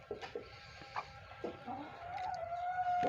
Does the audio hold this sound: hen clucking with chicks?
yes